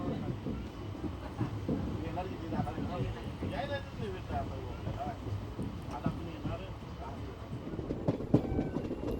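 Koyna Express train rolling on rails after leaving Sangli station at dusk, a steady rumbling run with faint rhythmic clatter throughout, and voices talking over it.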